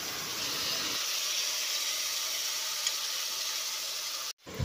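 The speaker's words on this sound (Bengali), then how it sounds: "আদা ও রসুনের পেস্টটা দিয়ে পেঁয়াজের সঙ্গে ভালো করে ভেজে নিচ্ছি।" Browned onions frying with ginger and garlic paste in a hot pan, a steady loud hiss and sizzle that cuts off abruptly near the end.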